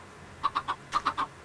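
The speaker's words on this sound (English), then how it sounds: "I can hear the chickens from my bed." Chickens in the Minecraft video game cluck in two quick bursts of three short clucks each, fairly faint and alone.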